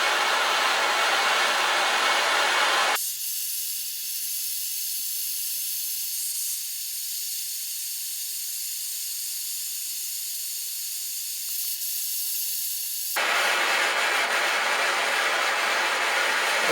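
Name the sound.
butane propane plumber's torch heating an SPi inlet manifold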